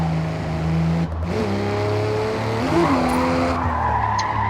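A car drifting in Forza Horizon, engine revving steadily in third gear as tires squeal and skid continuously, loud and close throughout.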